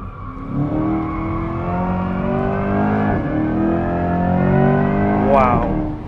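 A 2024 Corvette E-Ray hybrid driven through a chicane, its engine note loud and close, rising and falling in pitch as it accelerates, lifts and picks up again between the turns.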